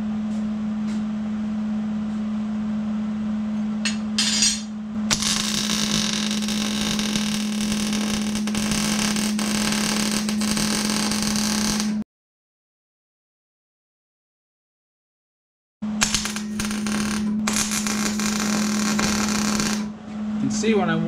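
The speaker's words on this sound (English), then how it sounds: "So let's finish welding the bottom of this." A welder runs beads along the bottom of a Ford F-350 crossmember resting on a welding table, a loud steady crackling buzz over a constant hum, cut off by a stretch of silence before resuming.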